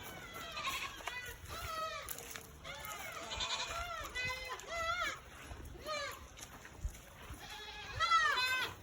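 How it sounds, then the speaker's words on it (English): Several goats on a farm bleat repeatedly in wavering cries, some near and some farther off, with faint voices and splashing in the background. "there's gonna be more goats out here"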